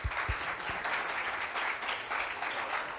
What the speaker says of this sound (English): Let's give him a round of applause and a welcome.